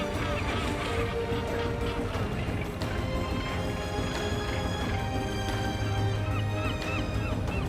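Seagulls and shearwaters call over the sea, repeated honking cries layered on a dense, constant wash of wind and water, loud and busy throughout.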